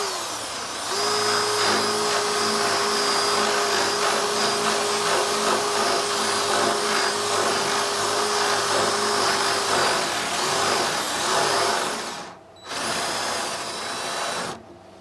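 Power drill with a small bit boring a pilot hole through wood while building a bunk bed, a steady whining motor held for about ten seconds, then brief stops and restarts, close and loud with no talking.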